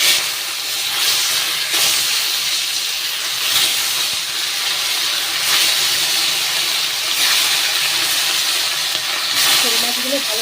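Pieces of snakehead fish frying in hot oil in a home kitchen, a loud, steady hiss and sizzle with slow swells and brief bubbling pops near the end, nearly alone with no talk.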